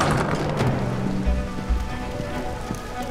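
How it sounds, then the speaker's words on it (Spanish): Steady rain from the video game Detroit pours down, pattering densely on a surface with scattered heavier drops, continuous and fairly loud, with no voices. "Llegamos a la lluvia."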